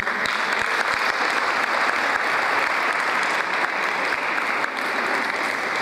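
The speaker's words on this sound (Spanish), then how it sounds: "Aplausos, por favor." Sustained audience applause at an awards ceremony presenting team recognitions, dense and even clapping filling the whole stretch with no talk over it.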